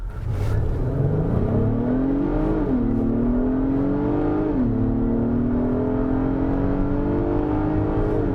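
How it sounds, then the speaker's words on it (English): A 2022 Acura MDX SH-AWD with a naturally aspirated 290-horsepower V6 accelerates hard from a stop in sport mode, its engine note climbing steadily with two brief dips at gear shifts, loud and close throughout. "Let's come to a complete stop. Let's put it back into sport mode here and let's go."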